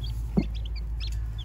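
A hen gives a single short cluck near chicks that have just hatched, standing out against a low background hum, with faint high peeps from the chicks scattered around it.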